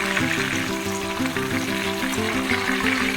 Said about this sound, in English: When the oil is nice and hot, let's drop the prawns in batches.